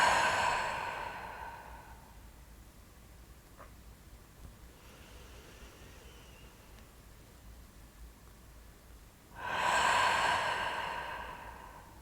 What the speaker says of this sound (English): And just allow the breath to flow.